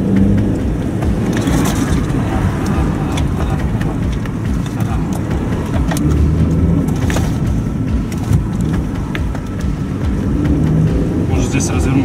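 Steady car cabin and road rumble from a Russian traffic police vehicle pursuing a car, a continuous low engine and tyre roar with wind noise across the whole stretch and faint voices at times.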